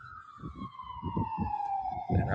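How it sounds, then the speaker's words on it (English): A fire engine siren wails from a firehouse just a block away, a steady tone slowly falling in pitch, over a rumbling truck engine and the low murmur of a voice. "pardon the sirens, because the firehouse is on just on the other side of that block"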